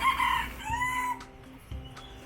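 Live chickens at a poultry shop in Taiwan, one rooster giving a loud crow at the start, followed by shorter clucks and calls from the nearby birds.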